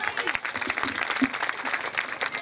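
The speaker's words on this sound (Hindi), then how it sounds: "आपकी भरपूर तालियों में आयशा अफजल और उनके साथी।" An audience at a high school annual ceremony claps steadily for performers, a dense patter of many hands at moderate volume with a faint voice or two mixed in.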